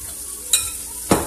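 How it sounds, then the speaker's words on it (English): Spoon scraping and stirring through a thick mayonnaise and sour cream mixture for a corn sauce, two short wet strokes close by with quiet pauses between. "We're going to mix our mayonnaise and sour cream mixture."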